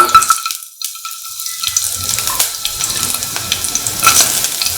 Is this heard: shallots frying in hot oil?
yes